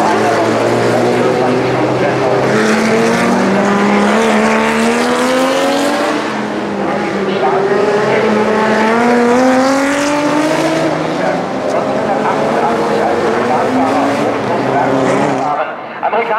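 Historic Interserie race cars driving in a parade at the Norisring street circuit during a classic racing event, engines droning and rising in pitch as they pass, heard beneath a German commentator speaking over a loudspeaker.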